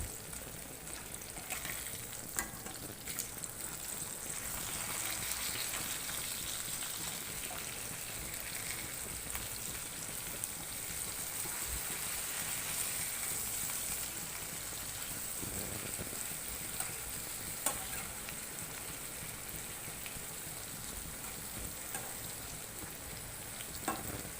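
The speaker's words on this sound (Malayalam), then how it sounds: "ഇപ്പോൾ മീൻ ഒരു വശം വെന്തിട്ടുണ്ട് ഇനി നമുക്കത് മറിച്ചിട്ട് കൊടുക്കാം" Fish fries in a hot pan in a home kitchen, a steady dense sizzle running the whole time, with occasional sharper crackles and pops as pieces are turned over; no voices.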